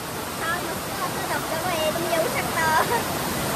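Chondhe waterfall pours in a constant, broad rushing roar that fills the whole moment, with faint voices of people nearby mixed under the steady water noise.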